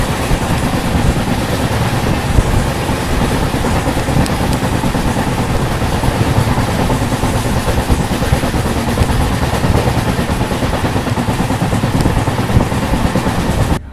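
An express train runs steadily on the rails near Vijayawada, with a constant loud rumble of wheels and wagons. A flat wheel may add a rhythmic clatter, and the sound never lets up.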